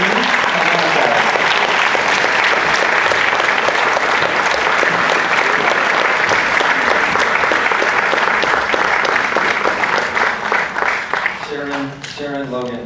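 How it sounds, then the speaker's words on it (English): A festival premiere audience gives a long, loud round of applause for the show's director, writer and actress, steady and dense for about ten seconds before thinning out as a voice begins speaking near the end. "give them a big round of applause"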